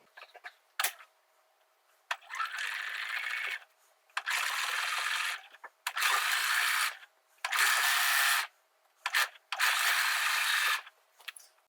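A sewing machine stitches sheer fabric for a vintage-style baby doll nightie, running in five short bursts of a second or so each, separated by brief pauses and faint clicks, fairly quiet and close.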